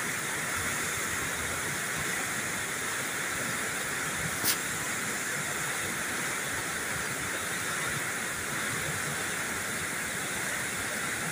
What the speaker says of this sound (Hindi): देखें दोस्तों ये कितनी स्पीड से पानी बाहर जा रहा है।